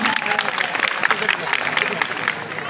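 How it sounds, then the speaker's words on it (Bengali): Students at a high school freshers' welcome ceremony break into sustained, dense clapping. The applause stays steady and fairly loud throughout, filling the room with the roar of many hands. "জোরে একটা হাততালি দাও দেখি আজকের জন্য"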